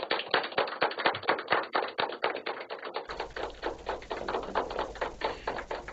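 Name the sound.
students clapping in applause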